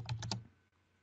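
A computer keyboard gives a few quick keystrokes as a folder name is typed, close and fairly quiet, followed by faint room hiss.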